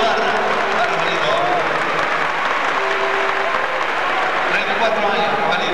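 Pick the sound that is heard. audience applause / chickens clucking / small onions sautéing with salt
audience applause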